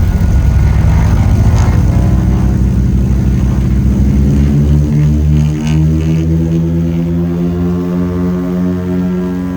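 A Britten-Norman Islander propeller plane accelerates hard down the runway, heard from inside the cabin as a loud, rattling engine and propeller drone that climbs steadily in pitch, with no talking.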